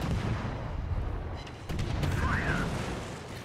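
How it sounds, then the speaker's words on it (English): Warship guns fire at an enemy Halland destroyer in World of Warships, a deep, heavy boom over a constant low rumble of battle, with a sharp report partway through. "I'm going to open fire on it"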